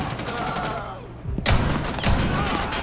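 Gunshots in Rainbow Six Siege fired as two sharp loud bursts about half a second apart, over steady game background noise.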